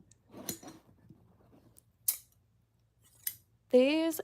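Fabric-cutting scissors slice through very thin fabric in a few short, sharp snips spread apart by quiet gaps, followed by a brief voiced sound at the end.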